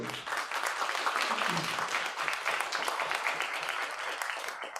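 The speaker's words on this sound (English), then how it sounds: "Let's give one more round of applause for all our contributors to Toyon 72." An audience at a literary magazine release party gives a dense, sustained round of applause that holds steady throughout, with faint voices under the clapping.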